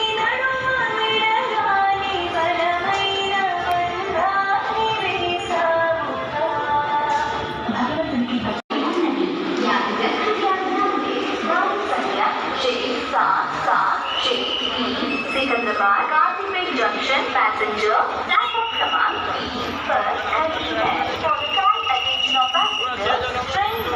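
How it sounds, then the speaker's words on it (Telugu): The Narayanadri Express stands and moves beside another train at Secunderabad railway station while the station is under construction, with rolling wheel and horn-like tonal sounds, squeals and station bustle, under a person talking nearby. "అండ్ పక్కన ఉన్న ట్రైన్ వచ్చేసి నారాయణాద్రి ఎక్స్ప్రెస్"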